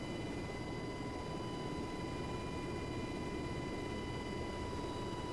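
A UH-60L Black Hawk taxiing in a flight simulator gives off a constant engine and rotor drone with a steady whine on top, unchanging and uninterrupted, with no talk.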